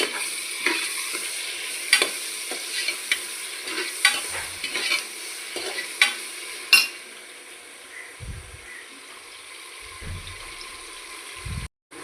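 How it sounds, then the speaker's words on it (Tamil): Tomatoes sauté in a pan for a large rice dish, a steady soft sizzle with scattered stirring clicks and utensil taps that thins out halfway, leaving a quieter hiss and a few low thumps. "தக்காளி போட்டிருக்கேன், வதங்கிக்கிட்டு இருக்கு"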